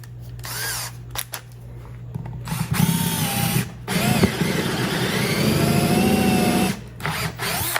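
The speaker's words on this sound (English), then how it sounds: "we're just going to pop in our appropriate drill bit size" A power drill whirs in bursts, spinning up and boring dowel holes into wood for several seconds, close and loud, with short pauses between runs.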